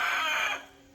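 Chickens on a farm, with young roosters among the hens, giving a loud close crow-like call that sustains and then fades away, heard alone with no talk.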